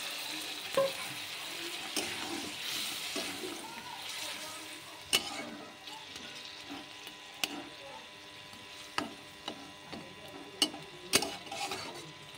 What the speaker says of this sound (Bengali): এবার এটা একটু নেড়ে নেড়ে একটু জল দিয়ে দেবো